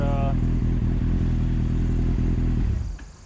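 A 2008 Kawasaki Z1000 motorcycle idling close by after clutch basket work, a loud, even engine throb with a steady rhythmic pulse that fades out at the end.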